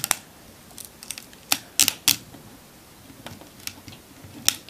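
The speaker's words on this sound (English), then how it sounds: "let's unwrap this one" LOL Surprise toy packaging being unwrapped, giving scattered sharp crinkles and rips of plastic and foil that come in short bursts, with a few louder tears, and no voices.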